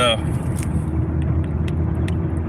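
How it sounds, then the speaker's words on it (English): Car driving on a highway: a steady, loud low rumble of engine and road noise fills the cabin, with faint clicks and brief higher hiss near the start as a window closes. "Welcome to highway driving, baby."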